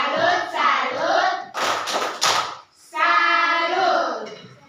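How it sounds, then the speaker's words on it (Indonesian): A group of pupils in a classroom performs a rhythmic clapping cheer for another group, with chanting voices around a short burst of sharp, close claps in the middle. "Tepuk salut untuk kelompok 2"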